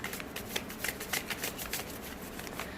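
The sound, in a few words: tarot cards being shuffled and handled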